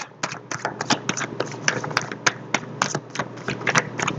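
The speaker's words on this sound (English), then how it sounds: "So let me just shuffle here." Rapid, irregular clicks and riffling taps of cards being shuffled close by, in quick bursts with no talking.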